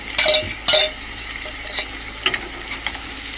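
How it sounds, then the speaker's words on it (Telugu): Dried prawns tossed into a hot pan for gongura curry, giving short bursts of sizzling frying with a few stirring scrapes, close and moderately loud, no talk. "ఇప్పుడేమో రొయ్యలు ఉన్నాయి కదా ఎండు రొయ్యలు అవి వేసేస్తున్నాం"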